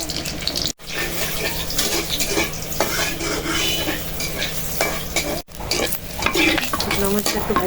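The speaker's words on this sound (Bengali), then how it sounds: "মরিচটা একটু ভাজা হলে রসুন দেবো" Chili peppers sizzle steadily in hot soybean oil in a home kitchen, a loud, continuous crackling fry with occasional stirring scrapes and pan clatter, broken by two brief silent gaps.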